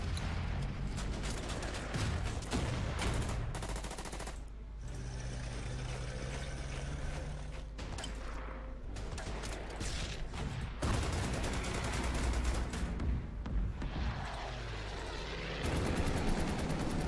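Artillery shelling in the World War II strategy game Order of Battle, dense rumbling blasts and crackling gunfire layered over a steady game soundscape, continuous and fairly loud.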